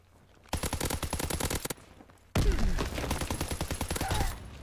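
Rapid automatic fire from an Austen SMG in Call of Duty WW2, two sustained bursts with dense repeating shots, loud and close, separated by a brief pause and no talking.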